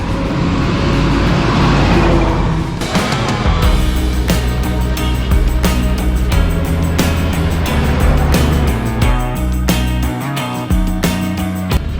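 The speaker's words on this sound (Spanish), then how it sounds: "Cuidado, mira, mira el camión, como adelanta" Truck overtaking on a busy road in Dar es Salaam, Tanzania, a loud close engine roar that swells and shifts as the heavy vehicle passes, with traffic rumble all around.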